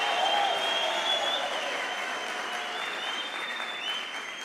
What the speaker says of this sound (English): Can we give this group of students another round of applause,